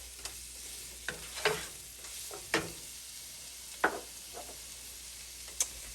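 About ten garlic cloves frying in a pan, a steady soft sizzle running throughout, broken by occasional sharper pops and stirring scrapes, close and moderately quiet.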